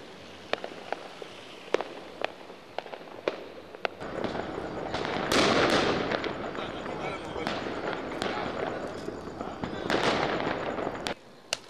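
Firecrackers explode on New Year's Eve, first as scattered sharp single cracks, then as a dense, crackling barrage of rapid bangs that fades before a few last pops.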